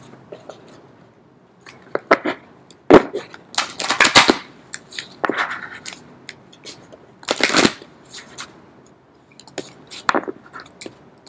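Oracle cards are shuffled in several quick riffling bursts between pauses, close and crisp, with soft handling rustles in between.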